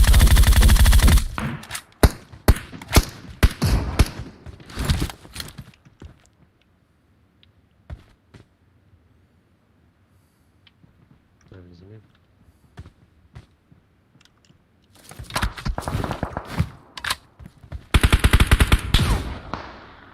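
Automatic gunfire in a ranked shooter video game bursts in rapid, sharp volleys at the start, goes quiet through the middle, then returns in loud clusters near the end, with voices talking during the match.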